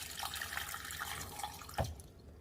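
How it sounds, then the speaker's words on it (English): Water poured from a container into a blender jar of fruit juice and sugar in a home kitchen, a soft trickling splash running steadily for about two seconds and ending in a brief plop, faint and without talk. "I'm going to add some water."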